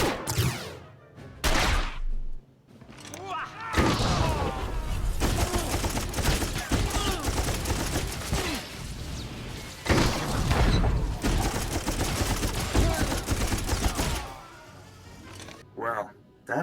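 A long, heavy firefight in Star Wars: The Old Republic, with dense blaster and gun volleys and booming impacts going on nearly nonstop between short quieter gaps, and voices shouting within it.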